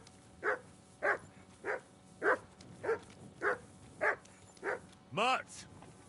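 Dog barking in Kingdom Come Deliverance 2: eight evenly spaced single barks at close range, then a drawn-out whining yelp.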